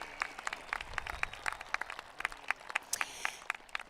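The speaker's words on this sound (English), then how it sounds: "Let's give them a big round of applause." Audience applause at a high school graduation ceremony, steady scattered clapping at moderate distance with sharp individual claps standing out above a soft crowd bed.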